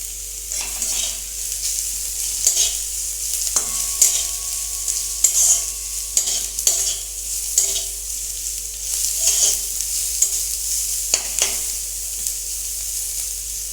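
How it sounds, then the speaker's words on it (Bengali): Chopped garlic and onion fry in hot oil with a steady sizzle, broken by repeated scrapes and knocks of a spoon stirring the pan at an uneven rhythm, close and clear with no talking. "পেঁয়াজ রসুনটা হালকা করে ভেজে নিয়েছি"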